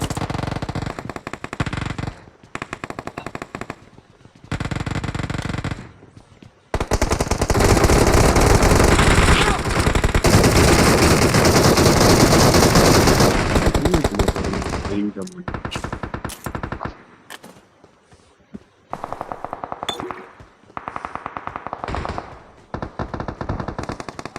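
Rapid automatic gunfire in a multiplayer shooting video game: sparse shots and short bursts at first, then a long loud sustained barrage in the middle, then scattered bursts again toward the end.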